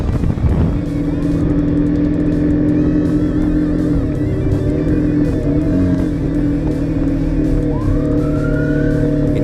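Onboard engine revving on a Suzuki GSX-S150 motorcycle with an overbored DOHC engine, a loud, close, steady drone with rising and falling pitch that climbs toward the end.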